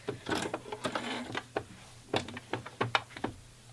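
A domestic sewing machine stitches lace to elastic on a longline bra in short, uneven bursts of mechanical whirring and clicking, with brief pauses between runs.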